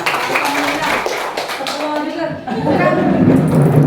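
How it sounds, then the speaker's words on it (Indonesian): Hands clapping together at an Indonesian teachers' positive-culture workshop during an ice-breaking activity, a steady patter of claps running under overlapping chatter and a few laughs throughout. "tepuk tangan untuk kita semua"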